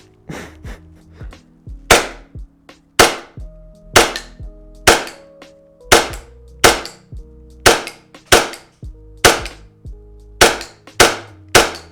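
A custom high capper airsoft pistol fired in a series of about a dozen sharp, loud, close cracks at a fairly even pace of roughly one per second, each snapping off with a short ring.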